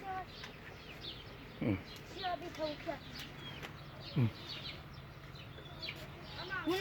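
Hens cluck and squawk in short bursts close by, with a few sharper calls rising above a busy farmyard background.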